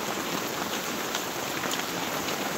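Heavy rain from Typhoon Carina pours down on a rainy morning at a tricycle sidecar maker's workshop, a dense steady hiss that fills the air without pause or breaks, with no voices.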